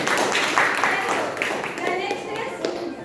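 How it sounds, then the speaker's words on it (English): Students clap in a classroom for a classmate who answered a perimeter question, a brief burst of scattered hand claps mixed with voices and room chatter. "clap for him"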